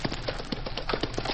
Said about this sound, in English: That sounds like a wagon.